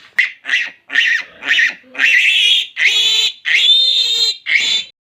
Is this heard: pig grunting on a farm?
yes